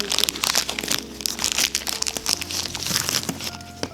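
Packaging for a Hagrid figure from an Advent calendar being torn and opened by hand, with steady close crinkling, crumpling and ripping of plastic and paper throughout, no talk.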